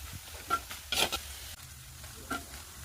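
Whole spices, fennel, pepper, cardamom, cumin, cinnamon and cloves, sautéing in oil for a vegetable kurma, with faint sizzling and a few soft stirring scrapes of a spoon in the pan.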